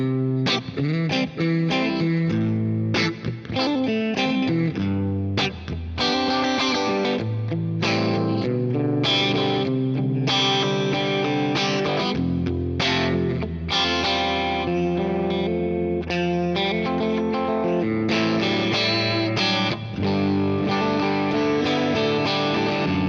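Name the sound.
clean electric guitar through amp modeler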